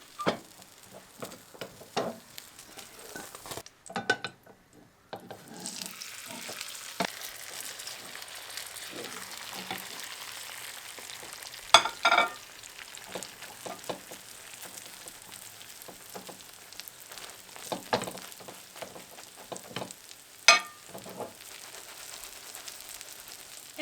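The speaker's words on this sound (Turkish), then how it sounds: "diğer tarafında kontrollü bir şekilde pişirelim" Börek made from yufka sheets frying in a pan on its second side gives a steady soft sizzle, with faint clicks and a few sharper crackles and pops scattered throughout.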